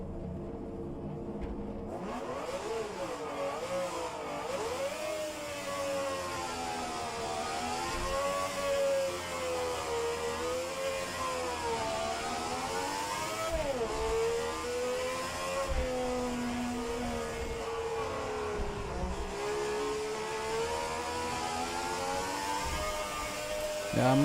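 A 1967 Formula 1 race car engine in the sim game rFactor 2 revs continuously, its pitch climbing and dipping through the gears, loud and steady with faint talk underneath.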